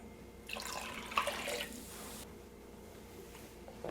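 Pepsi being poured into a bowl to make a marinade for spare ribs: a faint, soft liquid pour lasting under two seconds in a quiet kitchen.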